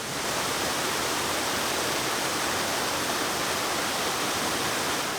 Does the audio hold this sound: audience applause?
no